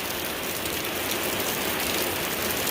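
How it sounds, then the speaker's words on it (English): Pounding rain roars in a dense, even wash of hissing drops, loud and constant for the whole stretch with no voices. "You guys remember that pounding rain I was hoping that we weren't going to get?"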